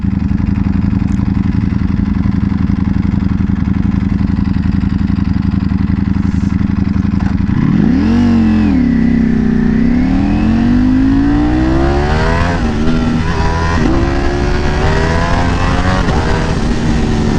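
A Ducati Panigale V4S motorcycle revs while being ridden: a loud, steady engine drone that climbs sharply in pitch through the gears, rising and dipping repeatedly with no speech.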